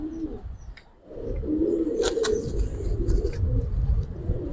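Giribaz pigeons cooing at close range, low throaty coos repeating over a murmuring background, with a few short chirps and rustles mixed in.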